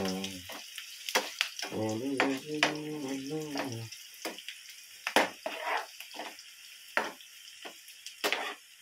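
Onions frying in a pan for egg curry, a soft sizzle broken by sharp spoon scrapes and clatters against the pan, with a brief murmur of voice in the middle.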